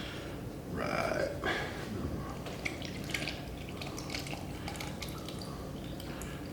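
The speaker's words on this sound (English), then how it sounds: "take our melted but cooled butter, add it into our wet" Melted, cooled butter poured into wet waffle batter ingredients in a bowl, a soft liquid glug followed by faint wet dripping and splashing over steady room noise, close by.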